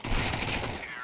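Rapid gunfire from Counter-Strike 2 rattles in a dense, loud burst lasting about a second and tailing off at the end, with a commentator's voice mixed in.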